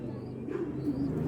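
Andhra and Madrasi tournament pigeons coo nearby in low, soft, rolling calls that continue steadily throughout, with almost no talk.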